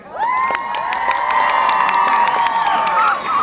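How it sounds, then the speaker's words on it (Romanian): Excited crowd at a live concert in Bocșa shrieking and cheering loudly, high shrill voices with scattered claps, sustained and close. "Aplauze pentru băieți"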